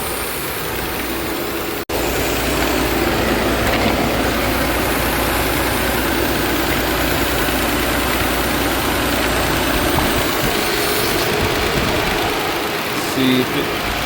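A 2008 Nissan Altima engine idles steadily after a vacuum leak repair, a continuous close low hum with a brief dropout near the start and no talking.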